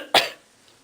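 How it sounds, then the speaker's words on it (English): A single sharp cough from someone recovering from a cold, loud and close, then quickly fading into quiet room tone. "if I coughed during the video, that's why"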